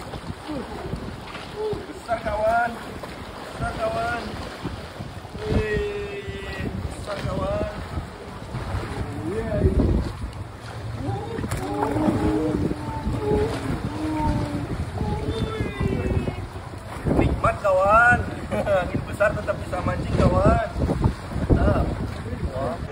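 Gusty wind buffets a microphone on a fishing boat at sea, the rough roar mixing with wave noise and boat sounds while people talk over it.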